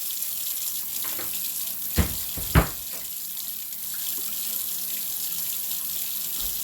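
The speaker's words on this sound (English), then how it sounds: "Always run your faucet for a minute when it's standing for a long period of time." Water runs steadily from a kitchen faucet left standing unused for a long time, a broad, even hiss, with two brief clunks near the start.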